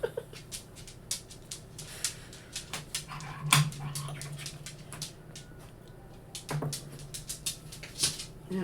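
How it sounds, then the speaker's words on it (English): A dog indoors whimpers and whines to be let out of the room, with soft repeated whines, panting and scratchy bumps scattered across several seconds, fairly close and quiet. "Yeah, the dog's in here wanting out."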